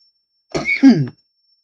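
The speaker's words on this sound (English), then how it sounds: "That was between a sneeze and a cough" A single abrupt, throaty burst, part sneeze and part cough, close by and loud, then silence.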